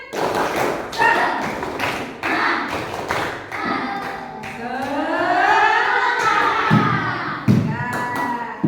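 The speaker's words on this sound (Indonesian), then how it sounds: "Tepuk satu, tepuk satu, tepuk dua, tepuk kosong, tepuk satu, tepuk semangat" A classroom of pupils plays a clapping rhythm game, tapping and clapping in short counted groups and pauses while voices chant along, loud and close.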